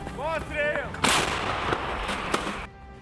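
A voice is heard briefly, then a heavy artillery gun fires with a loud boom that echoes and rumbles away before cutting off.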